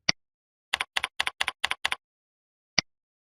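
Computer keyboard keys pressed while entering a CAPTCHA and OTP: one isolated tap, then a quick run of about a dozen crisp, close clicks in pairs, and a final single tap after a pause.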